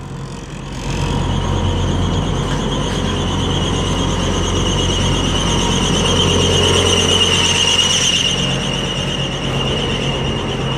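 A truck's refrigeration unit (reefer) runs steadily and close by, giving a continuous mechanical drone with a high whining tone above it. The sound is unbroken across the whole stretch, with no talking.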